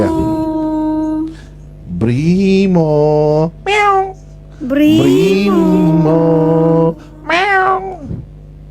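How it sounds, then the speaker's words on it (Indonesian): A pet cat gives several long, drawn-out, wailing meows in close succession, loud and near, with short pauses between calls. "Nih numpang sama kucing gua nih"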